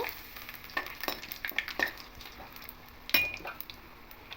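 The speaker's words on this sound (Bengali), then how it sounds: "এবার এই তেলের মধ্যে ফোড়নে পাঁচ ফোড়ন দেব দুটো শুকনো লঙ্কা দেব" Panch phoron and two dried red chillies crackle in hot oil, close-up light sizzling and popping with a few metallic clinks of a utensil against the pan.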